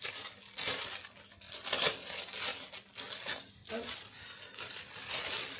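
Plastic packaging of a SHEIN bathroom décor kit being torn open and handled, with bursts of crinkling and rustling close by, broken by short pauses and a brief spoken word.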